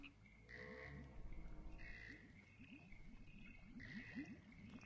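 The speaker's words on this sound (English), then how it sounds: "Oh, it's frogs." Frogs croak in the Minecraft modpack Sevtech Ages, a steady, rhythmic chorus of low repeated croaks over a watery trickle, soft and continuous with no talk.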